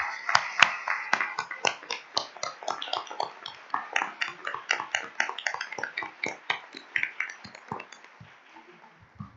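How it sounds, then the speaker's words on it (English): Applause for conference panelists at the close of an Iranian studies conference session, a scattered, clattering run of individual claps from a modest audience that thins out and fades toward the end. "let's please give a huge round of applause for everyone"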